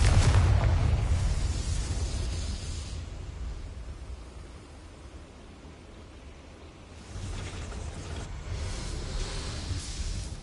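Fire spell blast in Hogwarts Legacy: a heavy rumbling boom opens loud and decays over several seconds, then a second broad crackling burst swells near the end, with no voices.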